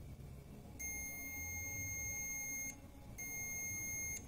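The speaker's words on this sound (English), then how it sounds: "This continuity part will help us to determine if there is disconnection in an electrical circuit or not. It will give a sound." A multimeter set to continuity emits two long, steady high-pitched beeps with a brief gap between them, close and clear over faint background noise.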